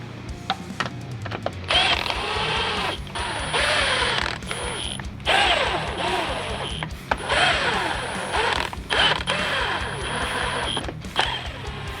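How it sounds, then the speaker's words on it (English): A hand ratchet clicks in repeated quick strokes while bolts are run down and torqued in a crossing pattern on the upper case of a 4L60e transmission, each burst close and crisp, separated by short pauses. "rotate and torque it in a crossing pattern"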